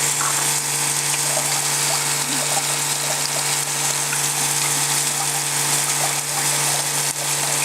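Water rushes steadily through a Sluice Goose gold sluice box with no moving parts, a continuous, even wash of flow that stays at the same loud level throughout with no voices.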